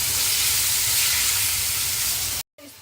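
Ingredients sauté in a hot pan, giving off a steady, loud, bright sizzle that holds for over two seconds before cutting off abruptly near the end.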